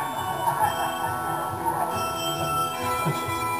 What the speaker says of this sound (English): they turned the Carillon on. And it started playing all these songs